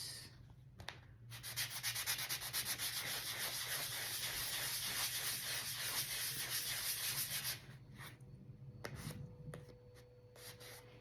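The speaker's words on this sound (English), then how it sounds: "Just sand my surface, smooth it out." A painted house-shaped Christmas ornament is sanded smooth by hand, a steady dry rubbing scrape that runs nearly continuously before stopping, followed by a few lighter, scattered strokes and handling noises.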